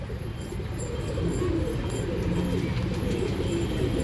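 Pigeons with fully purple-feathered feet coo in a low, steady murmur throughout, several birds close by and moderately loud, with faint chirps above.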